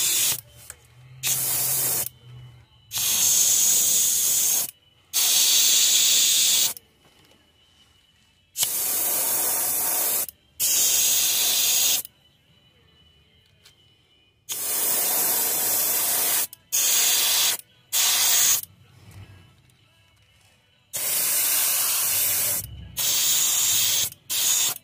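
Bursts of aerosol spray paint applying red to a flat-sided crankbait shad fishing lure, a dozen or so short and longer hissing blasts separated by silent gaps, close and loud with no talk.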